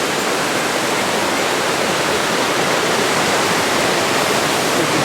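River water rushes loudly and continuously in Japan, a dense, even roar of broadband noise with no breaks and no voices.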